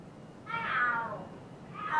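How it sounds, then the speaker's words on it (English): Cats screeching and yowling as a scuffle in the Yakuza video game, two rising wails, the first long and loud, a second starting near the end, with no talk over them. "The hell, are there cats fighting? What are they screaming for?"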